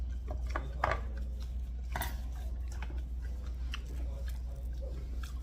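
Someone chews food dipped in ssamjang close up, with soft, wet, irregular bites and crunches over a low background hum.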